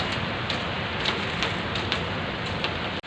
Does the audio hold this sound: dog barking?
no